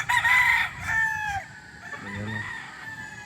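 Roosters crowing among a flock of fighting cocks kept as breeding stock, several loud cock-a-doodle-doos one after another with clucking between, while someone talks nearby.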